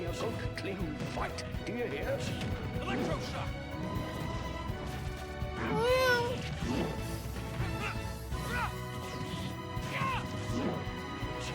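A person imitates cat meows several times in a row, with rising and falling mewing tones over a busy background of noise and clatter.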